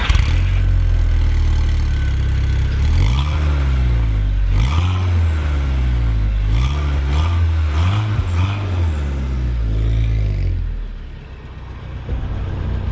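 A KTM X-Bow GT sports car's engine pulls away and climbs through gears, rising and dropping in pitch with each shift, loud and close from inside the car, then easing off toward the end.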